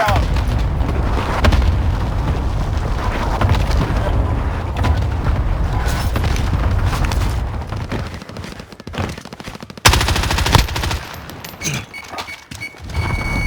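Airstrike explosions in Call of Duty: Warzone, a heavy run of booms and rumbling blasts with rattling gunfire, continuous and loud, with radio chatter over it.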